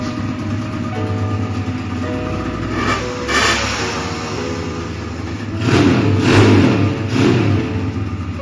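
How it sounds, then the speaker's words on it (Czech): A rusty Yamaha DT 80 motorcycle engine with very low compression runs and revs loudly and close by, its buzzing note rising in repeated bursts with no talk over it. "Motor sice jsme nakopli a..."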